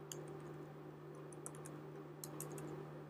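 A command is typed on a computer keyboard while configuring a network switch, faint, quick key clicks in small bursts over a steady electrical hum.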